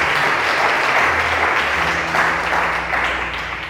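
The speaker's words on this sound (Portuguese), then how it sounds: "Aplauda o Senhor mais uma vez" Sustained applause from a church congregation during a Portuguese-language worship service, a dense, steady wash of many hands clapping close and loud throughout, with faint low hum beneath.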